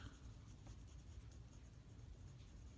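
A blue pencil scratches over paper in soft, continuous strokes for texture, faint and close with no talking.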